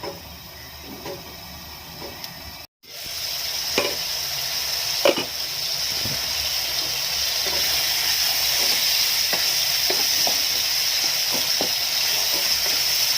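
Tomatoes and spices for Rajasthani kachri sabzi fry on low heat under a lid, giving a steady steamy hiss with faint scattered crackles that grows slightly louder after a brief gap near the start.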